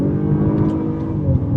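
An Acura RDX SH-AWD A-Spec with a 10-speed transmission accelerates hard while passing a truck on a freeway, its engine droning loud and steady from inside the cabin with a brief rise as it downshifts.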